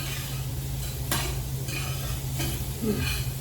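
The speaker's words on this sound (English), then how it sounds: "I'm going to add the rosemary. All these herbs right now, there's going to flavor this oil, flavor the onions." Rosemary and other herbs sizzling in oil with onions and garlic for a gravy, a continuous close crackling fry with occasional spoon stirs against the pot, over a low steady hum and no talk.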